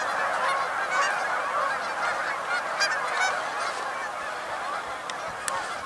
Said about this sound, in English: A lot of geese around this island.